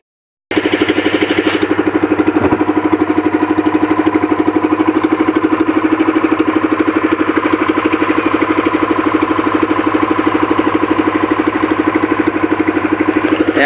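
A boat engine idles steadily and close by for the whole stretch, a constant rumbling drone with an even, throbbing pulse and no voices over it.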